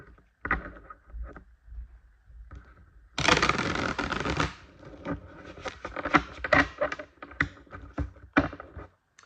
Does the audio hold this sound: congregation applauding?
no